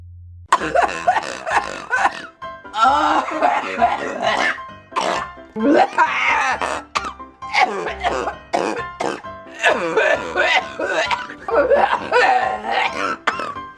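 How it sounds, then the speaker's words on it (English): A woman coughs and clears her throat again and again in harsh, close bursts with brief pauses between them. "This woman is coughing for no reason."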